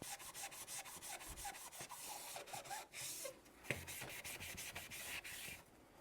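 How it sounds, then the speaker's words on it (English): Scrubbing with a Magic Eraser sponge inside a Ninja Foodi XL Pro air oven, a close, steady run of quick rubbing strokes that pauses briefly and then carries on. "I want to see if the Magic Eraser will take out."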